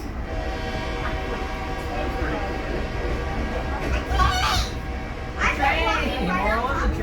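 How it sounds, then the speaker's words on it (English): A train rolls along railroad tracks running through a college campus, a continuous rumbling pass heard from nearby with a horn-like tone rising near the end, alongside a faint background voice. "Train! More on the train."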